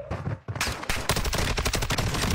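Rapid gunfire rattles in an online first-person shooter match, a short burst followed by a dense, loud string of automatic shots with no talk over it.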